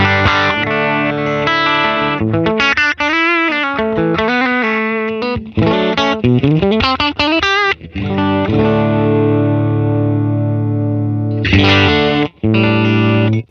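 Sustained electric guitar chords and melodic bends through a parallel compressor on a Line 6 Pod Go, blending compressed and dry signal, with a smooth, even tone, playing continuously with brief pauses near the end.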